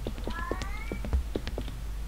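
A cat following the player in a horror video game, heard as soft repeated footstep taps with a faint meow-like tonal cry over a low game drone; no speech.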